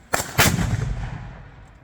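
A Civil War cannon fires one loud, booming shot at an outdoor demonstration in Clayville, Illinois, with a sharp crack followed by a rolling rumble that slowly fades.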